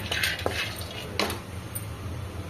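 Peanuts are dry-roasted in a pan, with a few close metallic scrapes and clinks of stirring over a low steady background.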